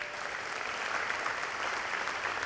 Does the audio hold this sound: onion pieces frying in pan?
no